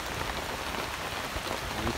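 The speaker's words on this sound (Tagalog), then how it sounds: "Ayan umulan na guys. Oh, umulan na." Steady, dense rain pattering on a surface, a continuous hiss of drops close by with no voices.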